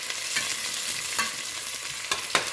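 Scallions sizzle in a hot pan as they are stirred around, with a close, continuous frying hiss punctuated by a few sharp scraping clicks.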